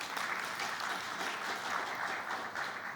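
Conference audience applauds steadily and fairly loudly, a dense even patter of clapping lasting the whole three seconds without voices.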